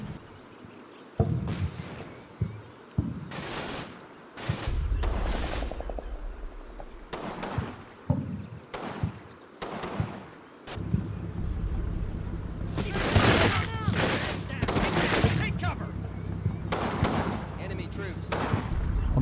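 Gunfire and explosions from a World War II battle at Vellebruca in Combat Mission Fortress Italy, with mortars in play: sharp separate cracks and booms early on, then a denser, sustained barrage of shots, with a voice talking over parts of it.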